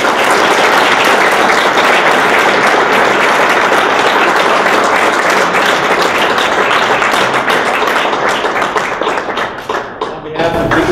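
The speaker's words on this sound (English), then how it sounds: "let's give a round of applause for our coach" A crowd applauds loudly and steadily for several seconds, the dense clapping tapering off slightly at the very end.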